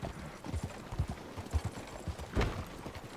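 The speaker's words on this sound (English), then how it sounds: "Javon's hooves clickety clack." A horse's hooves clip-clop at a steady walking pace on a Red Dead Redemption 2 trail, close and moderately soft, with irregular thuds and no voices over them.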